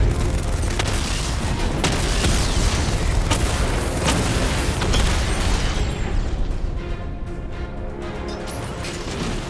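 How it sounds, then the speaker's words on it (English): Dense, continuous barrage of heavy booms and crashing impacts from 60mm cannon hits on armored units in Batman: Arkham Knight, loud and close, with mechanical clatter rolling underneath and easing slightly toward the end. "Your 60mm cannon will penetrate these heavily armored units"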